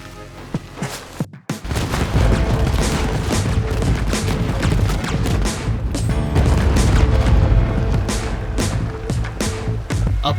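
Explosions rip through an outlaw base in Red Dead Redemption 2, a sudden heavy blast after a brief silence followed by sustained loud booms, crackling debris and gunfire-like bursts.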